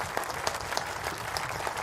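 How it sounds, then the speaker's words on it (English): Audience applause for anglers at the close of a FishOMania fishing competition final, a steady, moderately quiet wash of clapping from a crowd with scattered sharper claps. "please give a huge round of applause for all of our anglers"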